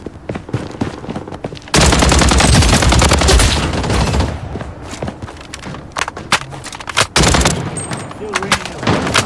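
Rapid automatic gunfire bursts and single shots from the mobile shooter game Blood Strike, loud and dense in long volleys with short gaps, over faint game sounds.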